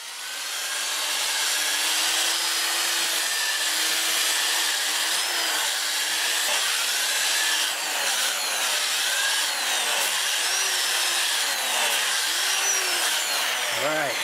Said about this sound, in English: I'll just use my 2-inch disc and I'm going to start with 120, sand it up to 400